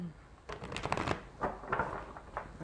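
Quick bursts of papery riffling, tarot cards being shuffled in several short runs close by, with a soft pause between bursts.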